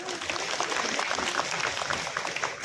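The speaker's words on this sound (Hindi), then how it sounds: "तो ताली बजा दो भाई।" A crowd at a chief minister's public meeting in Prem Nagar claps in a dense, steady burst, many hands at once and fairly loud throughout, with faint voices mixed underneath.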